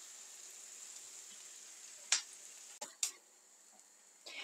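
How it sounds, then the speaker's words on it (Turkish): Chopped simit and peppers fry in butter with a steady, soft sizzling hiss, broken by a few sharp clicks and taps as the pieces are stirred in the pan. "Simitlerimi de biberlerle güzelce kavuruyorum."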